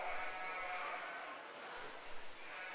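Sheep bleat at a livestock show featuring a breeder's flock class of rams and ewes, with a couple of faint, brief bleats over a steady hall murmur.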